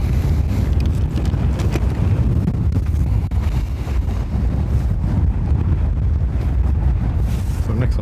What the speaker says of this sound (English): the wind won't light up the wind, or the wind will blow it out